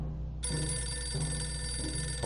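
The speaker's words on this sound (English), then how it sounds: "Oh, phone's ringing." A telephone rings in the video game 60 Seconds, a sustained electronic bell tone that starts suddenly and carries on with a soft, repeating pulse beneath it.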